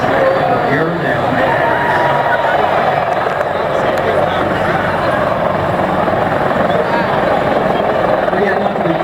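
A large, highly capable military helicopter flies past at Rotorfest with its landing gear down, sliding to the right. Its dense, loud rotor and engine roar holds steady throughout, and a crowd chatters underneath.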